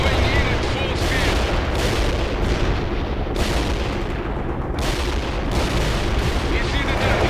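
Payload bombs exploding on enemy forces in the World in Conflict strategy game, a loud, continuous barrage of overlapping blasts and rumbling booms with repeated heavier bursts across the whole stretch, game voices faintly mixed in.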